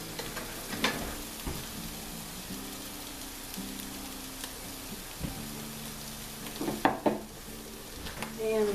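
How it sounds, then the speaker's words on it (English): Crab stuffing mixture sizzles steadily in melted butter in a pan while a spoon stirs and scrapes now and then. Someone talks quietly beneath the frying hiss. "kind of stir this around, kind of heat it through a little bit"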